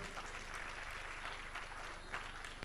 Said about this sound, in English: A round of applause as she comes to the podium